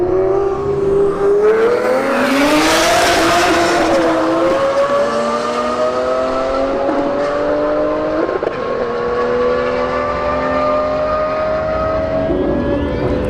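A Lamborghini Gallardo and a BMW 335i roll race at a drag strip, engines roaring loudly as they accelerate through rising gear pulls with distinct shifts, the combined drone sustained and close throughout.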